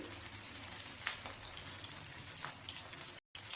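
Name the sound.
mutton chops in batter frying in oil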